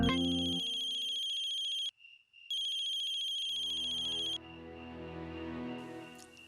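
A telephone rings with a loud electronic tone in two long bursts separated by a short pause, close and dominant, before a fainter fluttering tone takes over.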